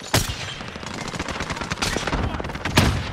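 Dense automatic and single gunshots crack in a Call of Duty Warzone payload match, steady bursts running throughout with a few louder close shots near the start and end.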